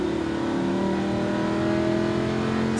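A Lamborghini Huracan accelerating on a track, its engine a steady, loud, continuous drone with rising tonal harmonics throughout, close to the listener and with no talk.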